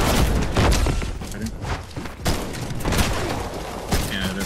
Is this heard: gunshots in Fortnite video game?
yes